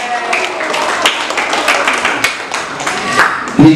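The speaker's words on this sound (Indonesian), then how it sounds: "Bila tepuk tangan sekali lagi yang meriah buat Athena Bila." Steady clapping from a crowd at a Ramadan charity event at a hotel fills the clip, a dense patter of many hands, with a voice briefly cutting in near the end.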